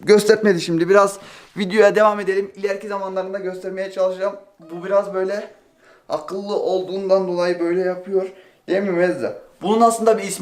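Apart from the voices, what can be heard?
None of the usual background noises is heard.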